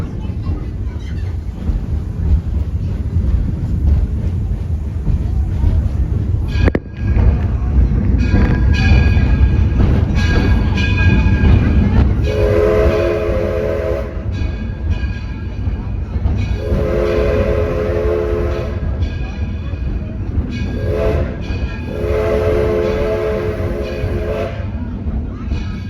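A small 20-ton Edison locomotive, rebuilt by Henry Ford in 1946, rumbles along with a steady low mechanical roar, then sounds its horn in three loud sustained blasts with short breaks between them; a voice speaks faintly early on.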